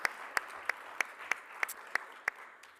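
Audience applause at a college honors program awards ceremony in a proscenium theater, soft and somewhat distant, with sharp individual claps standing out at a steady, regular rhythm above the faint crowd clapping.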